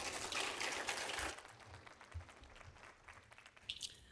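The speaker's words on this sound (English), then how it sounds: "A round of applause." An audience at a professional awards panel claps for a little over a second in a dense burst of applause, which then thins to scattered, faint claps and room noise.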